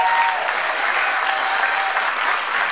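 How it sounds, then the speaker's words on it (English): A crowd applauds at a city commission candidates' debate in a playhouse, a dense, steady wash of clapping that stays loud and continuous throughout. "keep your applause going for John Paxman right here"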